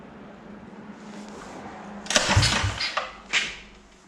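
Pull-started motorcycle engine with the choke on and a Mikuni VM22 clone carburetor, a faint hum, then a burst of rough sputtering catches and coughs before dying back down.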